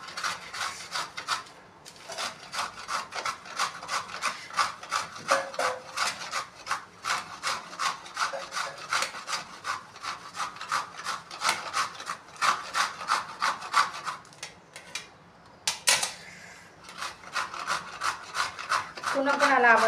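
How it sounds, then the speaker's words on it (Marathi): Coconut is grated for fried modak, with a rapid, rhythmic rasping scrape repeating close and steady, pausing briefly near the end before resuming. "खोबरं किसून घेऊया."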